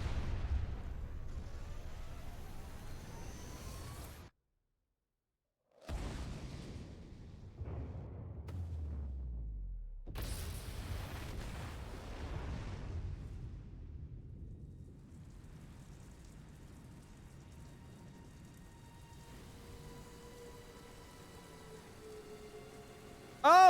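A large in-game explosion in Tales of Arise as Lenegis blows apart, heavy low rumbling blasts broken by sudden silent gaps, then a long fading roar with debris-like crackle, no talking.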